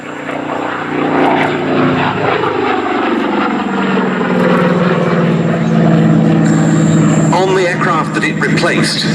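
A WWII-era propeller aircraft of the Swedish Air Force flies past at a Battle of Britain airshow at Duxford, its engine drone loud and steady with a shifting pitch, while a voice talks over it throughout.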